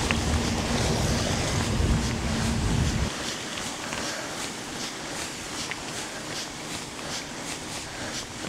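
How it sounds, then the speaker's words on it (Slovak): Small stream flowing beside a hiking trail in the Little Carpathians, a steady broadband rush of water heard alone, louder and fuller in the first few seconds, then a softer, even babble with light wind buffeting. "vyzerá, že aj tuto pôjdeme popri potôčiku"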